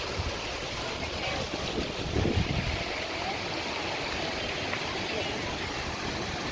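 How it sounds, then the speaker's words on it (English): Hot spring water flowing along a hiking trail near a footbridge at Goldbug Hot Springs, a steady broadband rush with wind buffeting the microphone, slightly louder around the two-second mark. "And nice hot water coming into there."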